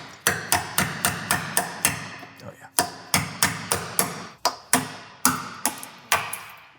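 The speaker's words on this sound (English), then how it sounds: "I think hammer and chisel is the way to go here" Hammer and chisel chipping seam sealer off a car body, a steady series of sharp ringing metallic strikes roughly every half second, close and loud, with a brief exclamation from a voice.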